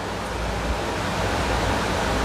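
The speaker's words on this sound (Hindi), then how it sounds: "ये देखिए फ़ैन का आवाज़ कितना ज़्यादा आपको सुनाई दे रहा है।" Room fan and air cooler running together, a steady broadband whoosh of moving air that stays even and continuous, fairly close, with no talk over it.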